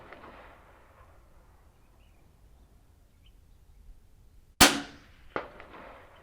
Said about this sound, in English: I'll shoot straight away right now.